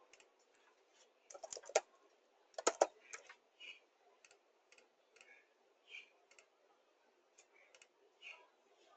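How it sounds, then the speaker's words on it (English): Computer mouse clicking at a desk while a recorded message is saved to a communication button: sparse, light clicks in small clusters, some doubled, close and faint, with no talk. "I'm going to click the sound file again."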